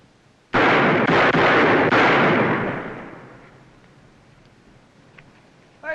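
A rapid burst of several loud, close gunshots fired in quick succession, merging into a roaring boom that slowly decays into a quiet room tone.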